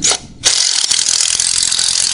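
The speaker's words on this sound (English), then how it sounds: "We're just going to blast that off with our impact." An impact wrench zips off 9/16 nuts from a vehicle's stock steering gearbox: one short loud rattling burst, a brief pause, then a longer sustained hammering whir close to the microphone, no talking.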